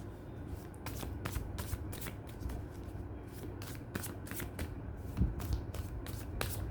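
Oracle cards being shuffled by hand in a quiet room, a steady run of crisp riffling taps and soft slides that repeat in quick bursts, close and fairly quiet, with no talking.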